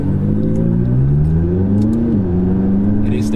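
McLaren 570S sports car engine droning steadily while driving, pitch rising then dipping slightly as it revs, loud and close throughout with no talk.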